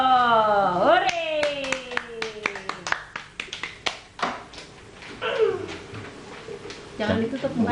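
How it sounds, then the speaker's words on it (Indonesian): Brief, scattered hand clapping from a small audience cheering a child at an Indonesian children's competition, close and fairly loud, with voices speaking over and between the claps. "Selesai ya, tepuk tangan untuk Nadifa Trihapsoro."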